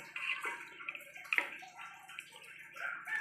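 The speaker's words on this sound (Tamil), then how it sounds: "இந்த கால் சுடுதண்ணீர் நல்லா அலசிக்கணும்" Goat trotters being rinsed in hot water, with soft splashing and sloshing in a kitchen and a few brief sharper clinks, fairly quiet and close.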